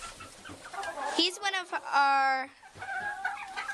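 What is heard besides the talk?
bantam rooster named Coco clucking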